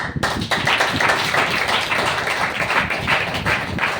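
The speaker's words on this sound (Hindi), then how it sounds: "इनके लिए ताली करो।" Audience applause at a marketing plan meeting, dense and steady clapping from many hands filling the room, loud and continuous with no talk over it.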